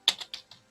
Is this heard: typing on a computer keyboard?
yes